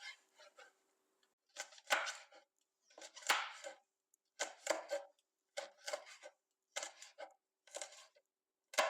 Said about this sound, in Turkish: Şimdi biberlerimizin hepsini iri olarak doğrayıp ocağımızın başına geçeceğiz.